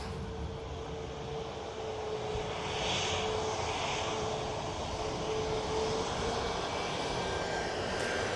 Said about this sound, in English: let's watch this Ryanair come through the shot on this EasyJet